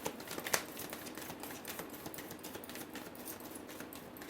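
Tarot cards being shuffled by hand, a soft, papery riffling and rustling that runs steadily and quietly throughout, with one brief sharper snap near the start and no talking.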